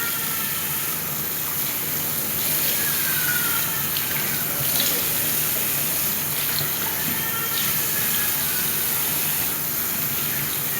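Steady stream of water running from a tap into a sink during hand washing, continuous and fairly close, with no talking over it.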